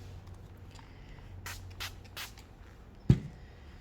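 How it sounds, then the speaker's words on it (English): Water is sprayed onto a painted wooden sign, giving three or four quick, soft hissing bursts from a hand spray bottle up close, followed by a single sharp tap. "I'm probably going to need to spray it a little bit more often than I would"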